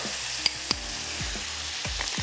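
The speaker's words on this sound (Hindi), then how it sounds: "और इसको थोड़ा सा हम फ्राई करते हैं" Chopped onions frying in a pan, a steady broadband sizzle throughout with a couple of sharp utensil clicks early and a few low thuds of stirring, close and without speech.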